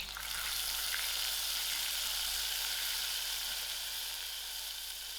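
Cumin seeds, mustard seeds and ginger garlic sizzle steadily in hot oil for potato kachori filling, a dense, even frying hiss that stays loud and unbroken from start to finish.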